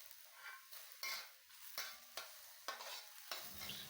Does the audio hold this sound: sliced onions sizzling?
yes